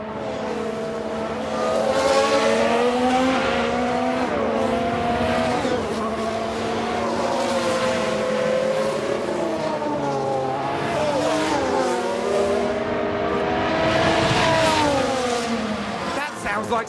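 Race cars circle the track in the F1 Manager 2022 racing game, engines droning and shifting pitch steadily at moderate distance, with a voice talking over the engine noise throughout.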